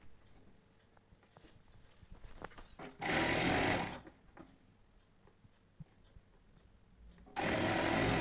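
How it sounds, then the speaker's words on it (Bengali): A sewing machine stitches the side seams of a cotton nightie in two loud, close bursts of fast whirring about a second long, with quiet handling clicks and fabric rustle between them. "তো দুটো সাইড সেলাই করব।"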